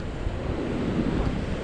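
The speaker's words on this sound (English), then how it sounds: "seeing the waves crashing in the distance" Waves crash in the distance along the shore near Glentana Caves, a steady, even wash of surf noise mixed with wind, with no voices.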